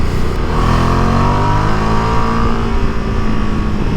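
A 2025 Ducati Multistrada V2 motorcycle engine revs hard and loud up close, its pitch climbing steadily as it accelerates through the rev range.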